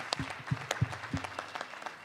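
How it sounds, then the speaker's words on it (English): Brief, sparse applause from a panel-discussion audience: a few scattered, fairly quiet claps with a voice murmuring underneath. "Now, Randall, give him a round of applause, please."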